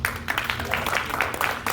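Mixed applause and scattered clapping from a comedy club audience during a live standup show, a moderately dense crowd patter with some voices over it.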